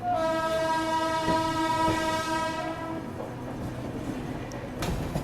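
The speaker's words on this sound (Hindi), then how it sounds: "ये कौन सी ट्रेन क्रॉस हो रही है इसका बिल्कुल आइडिया नहीं है मुझे" A passing train sounds its long, loud horn, then a steady rumble and clatter follow, heard from aboard the Indore Daund Express in the early morning just after leaving Kalyan.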